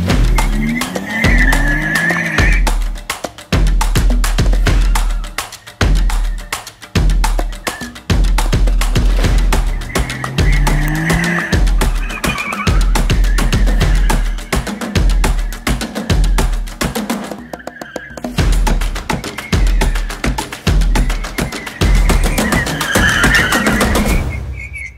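Competition-style car driving hard through a course, its engine roaring and revving loudly with harsh, fluctuating tone and brief tire squeals, continuous and close for the whole stretch.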